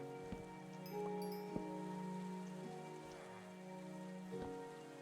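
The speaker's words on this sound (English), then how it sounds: "I'd really like the rain to stop now." Steady rain patters on surfaces in a Minecraft-style game world, a soft continuous hiss with scattered droplet ticks, heard alone with faint tonal background music and no talking.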